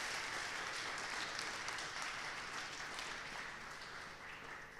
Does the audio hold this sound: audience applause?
yes